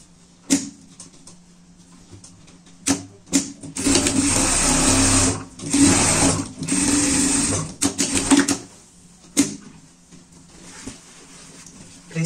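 A sewing machine stitches a seam on a fabric pet bed, running in several sustained whirring bursts separated by short pauses and clicks, close and fairly loud.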